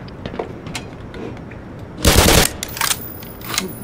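Gunfire from the video game Black Mesa: a loud, dense burst of shots about two seconds in, with scattered lighter shots and game noise before and after, no talk.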